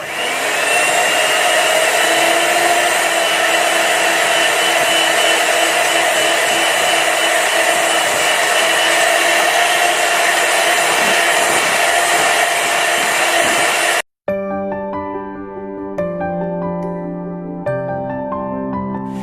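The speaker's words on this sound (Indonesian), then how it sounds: "Kita kocok lebih kurang kalau dengan mixer saya itu sekitar 10 menit ya" An electric mixer beats batter for a jadoel-style marbled pandan chocolate sponge cake at high speed, giving a loud, continuous whirring motor drone that holds steady before cutting off abruptly, after which music plays.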